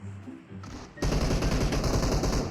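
Automatic gunfire in a video game, with quieter scattered shots at first and then a loud, dense, sustained burst of rapid shots close by. No talking.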